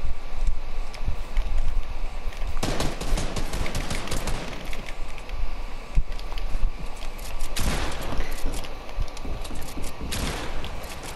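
Rapid bursts of automatic gunfire in a shooter video game, dense crackling volleys in a few long strings with scattered single shots between, loud and close, no talk.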